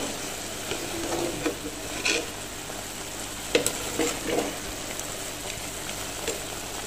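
Beef for ntibe, Comorian style, is stirred in a pot as a soft sizzle holds underneath, with faint scraping knocks of a utensil at uneven intervals.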